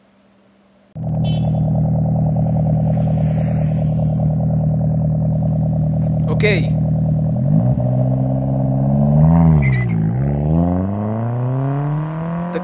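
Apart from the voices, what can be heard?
Suzuki Wagon R with HKS muffler exhaust while driving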